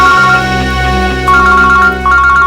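A phone rings inside a crime drama scene, its electronic tone pulsing in repeated bursts over a steady background hum, with no talk during the ring.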